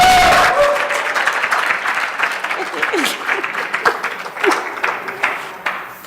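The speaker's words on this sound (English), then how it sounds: "a round of applause" An audience claps after a talk, applause loud at first and thinning gradually over several seconds, with individual claps and scattered voices and cheers mixed in.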